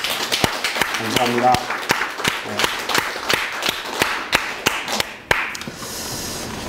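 A church congregation claps during a seventh-anniversary service, a loose scatter of individual hand claps rather than a dense roar. The clapping runs under a speaker's voice and thins toward the end, where a voice briefly speaks.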